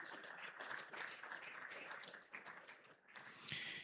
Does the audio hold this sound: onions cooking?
no